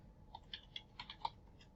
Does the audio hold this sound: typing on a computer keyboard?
yes